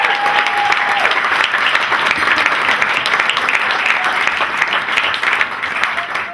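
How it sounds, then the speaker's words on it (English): Sustained applause from wedding guests for Heidi, a loud, dense wash of clapping that holds steady throughout, with a brief tonal whistle or voice near the start. "I'd like to give you a round of applause for Heidi"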